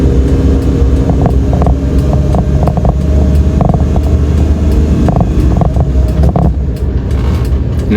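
A new manual-transmission car rolls along after a gear shift during a driving lesson. A steady, loud low rumble of engine and road carries on throughout, with wind buffeting the microphone and nobody speaking.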